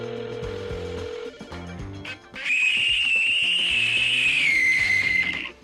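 In the survival game Rust, an in-game phone sounds with a long, loud warbling electronic tone that wavers in pitch over several seconds, following a low musical backing.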